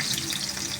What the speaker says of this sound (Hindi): ये डालती हूँ इसमें प्याज